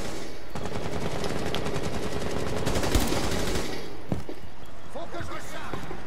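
Gunfire in the video game Rainbow Six Siege, with bursts of rapid automatic shots and a few sharper single reports, heard under and between voices talking.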